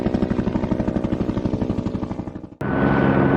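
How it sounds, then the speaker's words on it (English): Aerial crane helicopter beating out a steady, loud rotor thump with a droning engine tone underneath, tapering briefly before a sudden switch to a constant, whooshing turbine roar. "Aerial crane helicopter."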